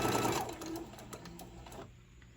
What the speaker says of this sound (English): Keep these pretty fabrics lined up together and sew.